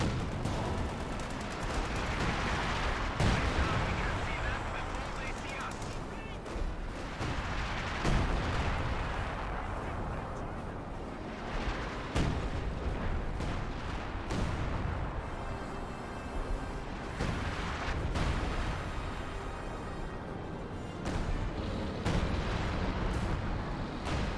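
Artillery barrages and gunfire in Company of Heroes 2, a World War II strategy game battle with tanks and anti-tank guns: repeated loud booms and crackling shots over continuous battle rumble, dense and sustained throughout.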